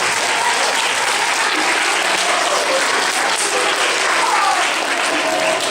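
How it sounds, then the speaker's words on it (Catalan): Loud, sustained applause from a school audience bidding farewell after a theatre performance, dense steady clapping filling the whole span with faint crowd voices mixed in. "els donem un fort aplaudiment, d'un de comiat ja"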